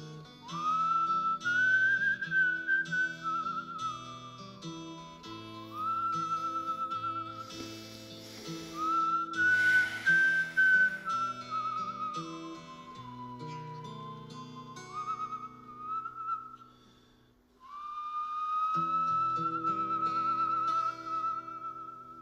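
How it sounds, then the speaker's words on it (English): A whistled melody from a song rises and falls in long phrases over a full music backing. It briefly drops out near the end before resuming, loud and continuous, with no talking. "Ugh, the whistle again."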